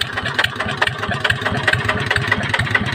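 A small engine fitted with an aftermarket racing exhaust pipe and a Magnum part idles at close range, giving a steady low pulsing throb with a bright rattling rasp above it and no talking.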